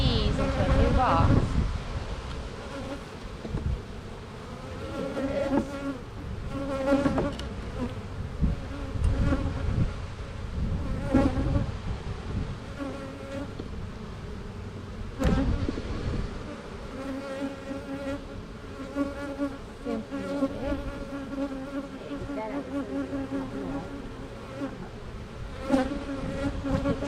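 Honeybees buzzing as they are moved into a new hive box, a steady dense drone of many insects close by, with occasional handling knocks and thumps throughout.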